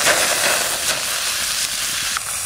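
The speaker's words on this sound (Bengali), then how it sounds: "ধনে পাতা ভাজা করব, সরষের তেল দিয়ে দিলাম।" Coriander leaves fry in mustard oil in a kadai, a steady broadband sizzle with crackling bursts running close and loud throughout, with no talk over it.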